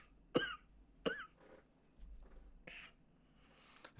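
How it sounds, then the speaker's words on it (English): A person coughs in a quiet room: two sharp, fairly close coughs about a second apart, followed by softer throat sounds and a third cough. "Still have the cough."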